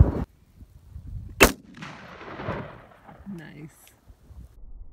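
A single loud shotgun blast cracks out close by, followed by a long rolling echo that fades over several seconds, with faint outdoor background noise.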